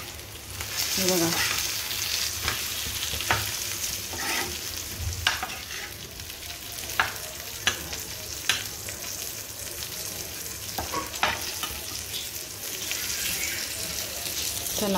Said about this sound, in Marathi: आपली मच्छी पण फ्राय झालेली आहे.